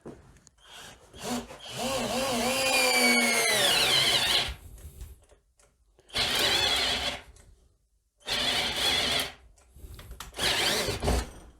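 An Edon AD-12AUN 12-volt cordless drill on first speed bores a 32 mm DeWalt bit into a 40 mm board: four close, loud bursts of whining motor and chewing wood, separated by short silences.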